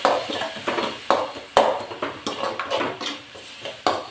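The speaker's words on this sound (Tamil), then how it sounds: "அதையும் போட்டு வதக்கிட்டுக்கிறேன்" Ground tomato paste is sautéed in a pan, with a spoon clinking and scraping against the metal in irregular knocks, and a low sizzle faintly underneath.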